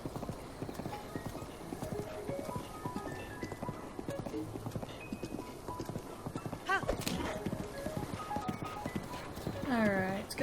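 Horse hooves clop in a steady rhythm in Zelda: Breath of the Wild, with a couple of whinnies near the end, set under game music and background sounds.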